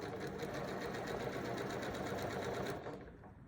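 Sewing machine running fast and steadily, stitching quilt fabric blocks with bias-edged triangles, a close, rapid mechanical whir and needle rhythm that stops abruptly near the end.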